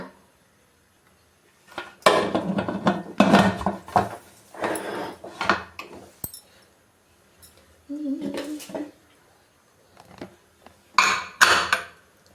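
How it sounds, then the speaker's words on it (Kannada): A pressure cooker lid being fitted and closed over Mandya-style sprouted-bean sambar: clusters of loud metallic clanks and scrapes of the lid and cooker body, with short pauses between, close up. "ಈಗ ಕುಕ್ಕರ್ ಕ್ಲೋಸ್ ಮಾಡೋಣ"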